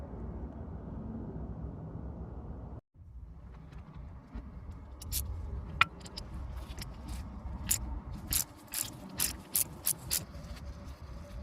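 Small bolts being loosened with a wrench on the loader valve of a 2007 Freightliner Columbia air compressor: a low steady hum with scattered sharp metallic clicks and ticks that become more frequent toward the end, with no voices.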